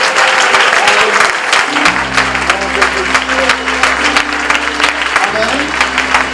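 A church congregation at a Sunday service applauds and cheers in a loud, sustained burst, with voices and a held musical tone rising beneath the clapping.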